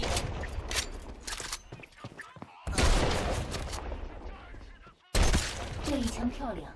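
Gunfire in a mobile shooter game, with bursts of loud close shots and game effects that stop abruptly twice, under someone speaking Mandarin.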